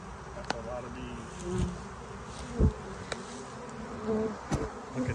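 A swarm of bees buzzes around a branch being shaken into a box outdoors, a dense steady drone with occasional knocks and rustles.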